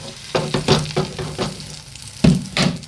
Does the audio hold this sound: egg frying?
yes